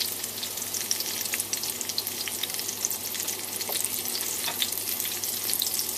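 Tomatoes frying in a pan for fried tomatoes with crab gravy, giving a steady, close crackling sizzle with scattered pops that runs on alone the whole time.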